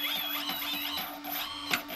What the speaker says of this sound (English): It's all the cooling fans, because obviously they're 45 amp ESCs.